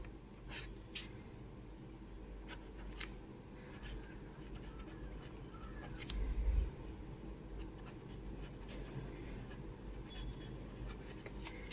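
A teacher writes word meanings on a board, with faint, intermittent scratchy strokes and taps of the writing instrument over a low, constant background hum.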